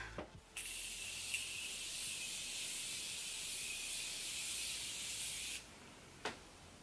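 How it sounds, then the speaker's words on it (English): Makeup setting spray hisses from a pump bottle in one long continuous mist lasting about five seconds, close and bright, bracketed by short clicks of the nozzle before and after. "I love how Champagne Pop looks after you spray the setting spray."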